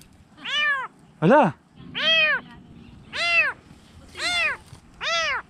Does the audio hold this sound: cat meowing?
yes